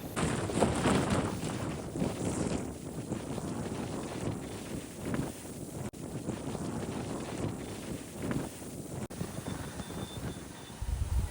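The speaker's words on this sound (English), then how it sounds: "the higher up you get, the windier it gets" Strong wind gusting across a microphone on a steep hilltop in Stanley, Tasmania, a constant roaring buffet with rising and falling surges throughout.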